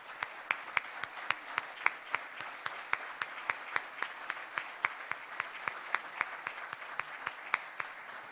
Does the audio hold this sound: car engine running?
no